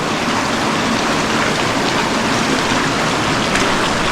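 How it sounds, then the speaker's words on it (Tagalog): Dao Falls waterfall in Samboan, Cebu, a steady broadband rush of falling water that stays constant and loud throughout, with no talking. "Dao Falls. Dito yan sa south ng Cebu."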